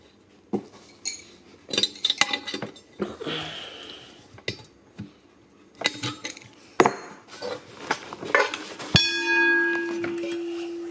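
An original level crossing bell gong, bench-tested on a battery, strikes once with a loud ring and then hums on in a sustained tone, following a series of sharp metallic knocks and clinks from handling.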